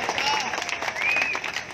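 Crowd at a Navjot Singh Sidhu political rally in Hisar breaking into loud, sustained clapping and cheering, with shouts and whistles riding over the dense applause.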